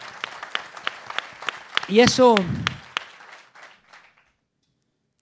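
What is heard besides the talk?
audience applause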